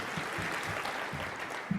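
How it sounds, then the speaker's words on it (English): Faint, distant audience applause at an animation awards ceremony, a soft continuous patter of many hands over a short stretch. "Applause, please."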